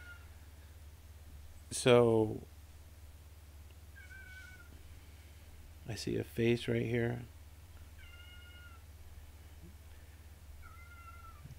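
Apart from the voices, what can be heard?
cat meowing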